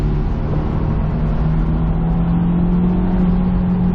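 A 2007 Honda S2000 AP2 accelerates hard in third gear, with a loud, steady engine drone heard from inside the car and its pitch rising gradually, and no one talking.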